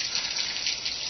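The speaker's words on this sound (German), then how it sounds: "Hier fließt ein kleiner Bach." A small stream flows on a woodland hiking trail, giving a steady, even, close rush of running water with no pauses and no voices.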